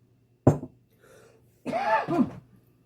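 Two separate coughs, the first short and sharp, the second longer and raspy, with a faint throat sound between them, close by.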